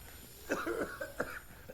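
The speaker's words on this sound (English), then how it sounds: "So much coughing." A few short, raspy coughs in quick succession, close and moderately loud, then a faint final cough.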